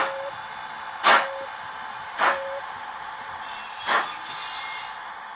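An ESU model railway locomotive runs on a layout with a steady electric hum, while three short bursts of hiss sound about a second apart and a higher whine rises near the end, all close by and clear, with no talking.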